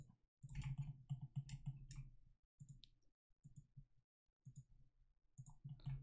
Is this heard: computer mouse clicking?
yes